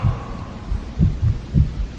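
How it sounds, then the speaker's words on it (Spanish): A heartbeat sound effect: low, muffled double thumps repeating in a steady rhythm, loud and close, with no speech over it. "el pálpito infernal del corazón del viejo era cada vez más fuerte, más rápido, sobre todo, más sonoro"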